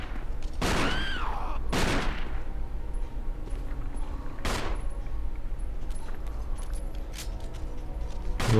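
Gunfire in the Resident Evil 1 game: a few sharp, loud shots spaced across the opening seconds, then a lone blast midway, over a steady droning background with no talking.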